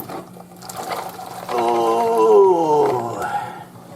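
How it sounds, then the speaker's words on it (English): Water drains from a batch of soaked kidney beans poured into a colander, starting with a swelling gurgle that carries a moaning, tonal pitch and then gradually fades out. "Get a colander like this, drain out all your beans."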